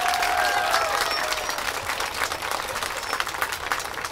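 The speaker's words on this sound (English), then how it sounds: "Please give our children a round of applause." An audience at a school event applauds children, with sustained dense clapping from a crowd that is close and steady, then gradually thins and softens over several seconds.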